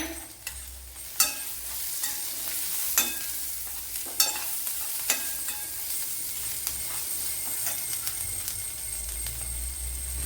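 Crushed garlic and ginger fry in a pan with a constant close sizzle and hiss. Sharp clinks of a utensil against the pan cut through now and then, and no one speaks.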